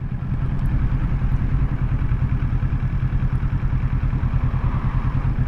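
A motorcycle engine runs steadily while riding on a clear freeway in a high gear, a loud, continuous low rumble with a rapid pulsing beat and light clatter throughout, close to the listener, with no talking.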